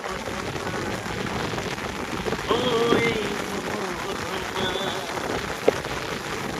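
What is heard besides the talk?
rain falling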